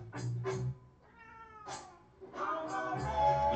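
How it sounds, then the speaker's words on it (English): An unhappy house cat yowls in repeated drawn-out cries, fairly close and loud, with short gaps between calls in an otherwise quiet room. "You can probably hear my cat yelling. He's not happy right now."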